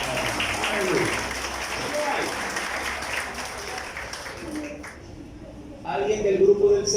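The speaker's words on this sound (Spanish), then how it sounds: "un fuerte aplauso a la" Congregation applause at a church gathering, a steady, moderately loud clatter of many hands that thins out partway through before a voice takes over near the end.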